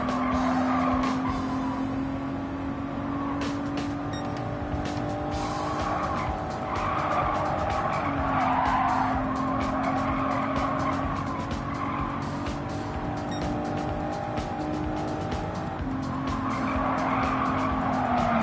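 An Audi race car engine in the video game Gran Turismo 7 whines continuously at high revs, with tires squealing and skidding across a steady, loud roar, no talking.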